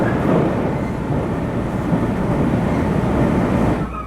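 A local train runs at speed, passing a Kodama shinkansen slowing for its stop, heard as a steady loud interior rumble and rolling noise that drops away right at the end.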